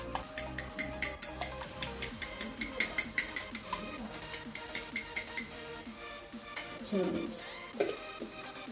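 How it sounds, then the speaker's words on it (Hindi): A potato and chicken tikki mixture with chaat masala and salt is mixed by hand in a bowl, producing a quick, regular run of soft scraping strokes, then a few heavier rustling movements near the end. "अब इसको अच्छे से करते हैं मिक्स।"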